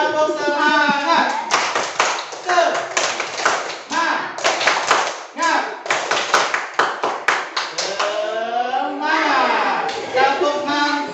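Children in a classroom perform a rhythmic clapping chant, crisp repeated hand claps in quick patterned bursts mixed with loud young voices chanting and an adult leading.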